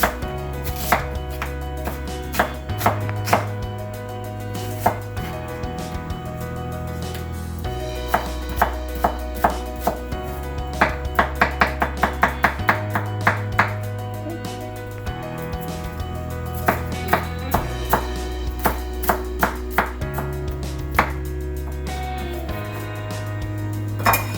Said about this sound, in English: we just finished chopping the onions